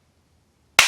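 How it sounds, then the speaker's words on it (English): One crisp, close hand clap sounds at the very end after near silence, sharp and bright with a quick decay. "Alright, one clap."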